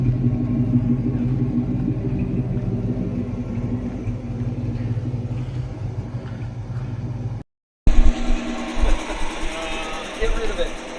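A 1973 Plymouth Satellite Sebring engine runs on stale gas with a steady, close, low rumble for several seconds, then cuts briefly before resuming with louder, rougher bursts, voices audible alongside.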